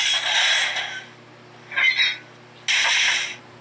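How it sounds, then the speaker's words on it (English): Coupler crash effect from a LokSound sound decoder in a ScaleTrains HO scale GE ET44 Gevo demonstrator locomotive: three short metallic clanking bursts, near and fairly loud, with a steady low idle hum underneath and no talking. "Function 3 is coupler crash."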